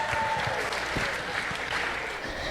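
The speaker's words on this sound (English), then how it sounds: "Let's give our volunteers a round of applause." Steady audience applause for volunteers fills the whole stretch, a dense, even roomful of clapping with no pauses and no talking over it.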